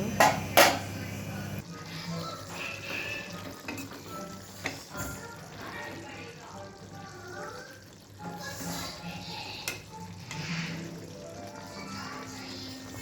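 Bitter gourd gravy simmering and frying in oil in a pan, a soft continuous bubbling sizzle with occasional clatters, while a voice talks over it at times.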